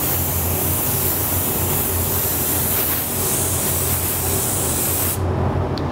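Spray gun applying metallic silver candy paint, a loud continuous close hiss of atomised paint that cuts off sharply near the end.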